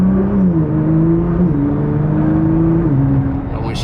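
A Nissan GT-R R35 accelerates hard in second gear, its engine droning loud and close from inside the car with a steady rising pitch that steps up in a few stages.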